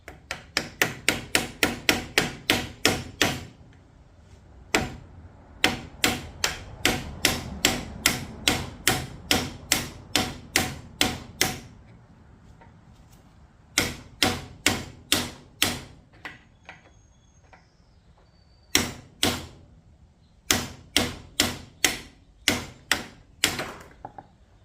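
A hammer taps on a stuck tractor part on a farm, sharp metallic strikes coming in quick runs of evenly spaced blows with short pauses between the bursts, close and loud with no talking.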